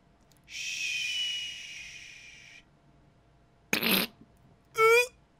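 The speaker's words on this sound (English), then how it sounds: "What was that fart sound?" Cartoonish fart sound effect in the Far Cry 3 video game: a sustained breathy tone, then a short burst and a quick sputtering blat, all fairly loud and close against near silence.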